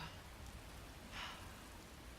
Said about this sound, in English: The rain is lessening.